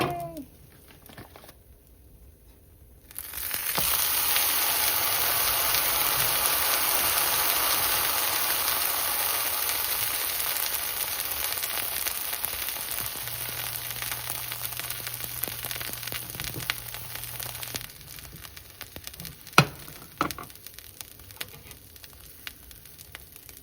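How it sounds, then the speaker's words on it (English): A slice of cinnamon vanilla French toast dropped into hot oil in a pan, starting with a sudden loud sizzle that holds steady and close for about fifteen seconds before easing off, with a few small clicks near the end. "I can go ahead and put another slice on here"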